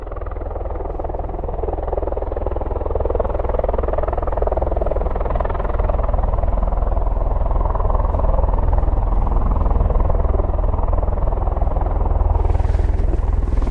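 A C-17 military transport aircraft flies overhead near RAF Mildenhall, producing a loud, steady, broadband jet roar that holds for the whole stretch with no talking.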